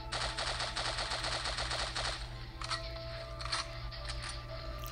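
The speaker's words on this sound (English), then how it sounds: "We're going to be reviewing the Assault Machine Gun." Assault Machine Gun in the mobile shooter Pixel Gun 3D fires a fast, steady burst for about two seconds, each shot crisp and rapid, followed by quieter game effects over a constant background hum.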